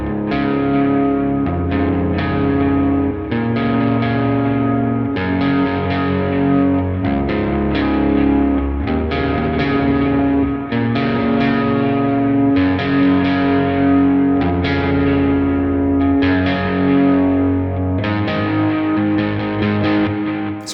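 Electric guitar with light overdrive, light delay and a touch of reverb plays chords from a worship song, with steady strummed hits that ring and echo continuously for about twenty seconds, no voices.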